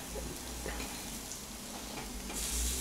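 Pork steaks sizzle on a Tefal OptiGrill Plus electric grill, making a continuous close crackling hiss with no voices, and it swells slightly louder near the end.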